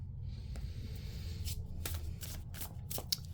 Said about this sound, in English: Let's go ahead and pull a couple more cards